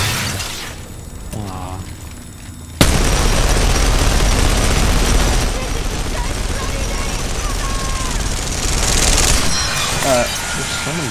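Rampart's Sheila minigun in an Apex Legends ranked match, a loud sustained rattling burst of rapid fire that cuts in sharply after quieter game sounds and keeps going for several seconds, with voices chatting over it.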